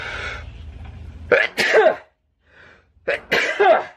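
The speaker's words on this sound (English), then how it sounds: "Gotta sneeze" Two sharp, loud sneezes close to the mic, a short quiet gap between them, each with a sudden burst and a breathy trailing release.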